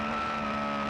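McLaren M8F Can-Am race car at Silverstone Classic, steady loud engine drone with a strong sustained tone, constant throughout.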